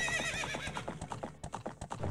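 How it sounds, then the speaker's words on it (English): Horse neighing and clip-clopping hooves from The Legend of Zelda: Ocarina of Time Master Quest: a bright whinny at the start, then a steady rhythm of loud, close hoofbeats for about two seconds, with no talk. "I've got a horsey."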